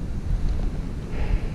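Steady wind buffeting the microphone outdoors, a low continuous rumble with gusty swells and no talking.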